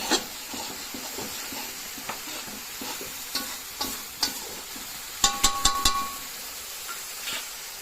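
Mutton sizzles and fries steadily in spices while a utensil stirs and scrapes, with a quick run of sharp clatters partway through.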